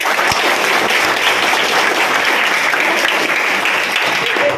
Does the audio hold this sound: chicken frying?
no